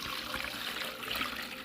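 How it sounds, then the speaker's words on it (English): Water pours steadily into a pet water fountain with a close, continuous trickling splash and no talking. "So we pour all that water inside?"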